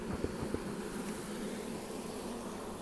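Honeybees drone steadily around queen cages, a close, even hum with a couple of faint taps near the start.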